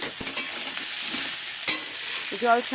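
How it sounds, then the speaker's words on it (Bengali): Bitter gourd and onion sizzle steadily in hot oil, with a few scraping stirs and a light clink partway through. "এখন এটা পেঁয়াজ দিয়ে ভালো করে ভাজা ভাজা ভাজা টাইপের করতে হবে।"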